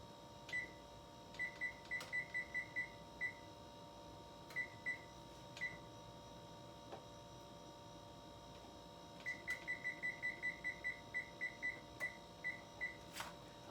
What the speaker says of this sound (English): So let me set my oven on 35 minutes.